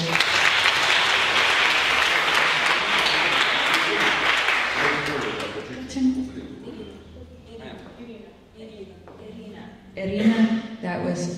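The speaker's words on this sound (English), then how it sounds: "So let's have a round of applause for you." An audience applauds at a jazz master class, steady clapping for about five seconds that fades out as a person begins talking.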